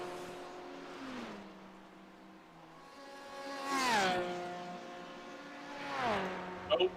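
Racing car engines in the iRacing video game during a Ferrari race: several engine whines pass by one after another, rising and falling in pitch as they approach and recede, at moderate loudness with no voice.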